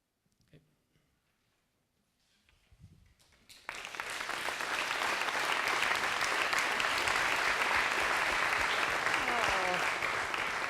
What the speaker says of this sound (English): Let's have another just round of applause for all those 5 fantastic presentations